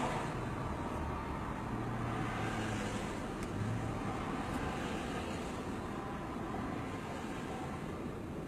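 A car's interior carries a steady, loud road roar and engine rumble at constant speed, with a faint tonal hum mixed in and no talking.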